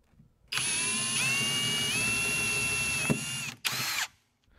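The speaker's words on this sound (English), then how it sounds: "just so that after I drill my initial hole" A power drill boring a pilot hole for a gooseneck hitch installation whirs steadily for about three seconds, briefly slowing, then stops and gives one short final burst; loud, close, no talking.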